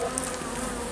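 Black honey bees buzz at an open hive being prepared for winter, a dense, continuous drone of many insects close up.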